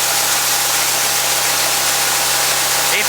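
A farm tractor engine runs at a steady drone during a corn harvest, loud and continuous with a low rumble and constant hiss.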